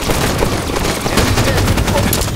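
Loud, close gunfire in Halo 5, a continuous rapid stream of shots with booming impacts throughout.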